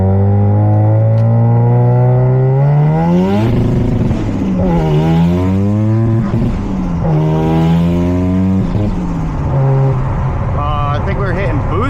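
A Mazda RX7 rotary engine revs hard in repeated rising pulls, each climb cutting off abruptly at boost cut before dropping and climbing again, loud and close with some voices underneath.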